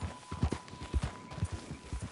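Horse hooves clip-clopping in Red Dead, a steady rhythmic trot of close, distinct thuds with no talking over them.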